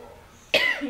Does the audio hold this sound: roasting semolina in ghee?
no